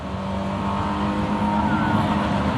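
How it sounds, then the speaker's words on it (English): A noisy car engine idles loudly at a roadside traffic stop, a steady rough rumble continuing throughout with no voices over it. "Yeah, we can hear it from half a block away, just idling."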